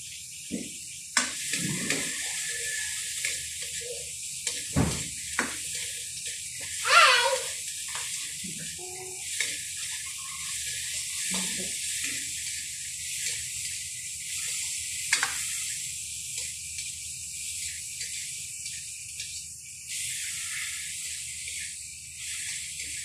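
Ground meat and string beans sizzle steadily in a pan for adobong sitaw with pepper and salt, with scraping stirring strokes and occasional louder clacks over the continuous frying hiss.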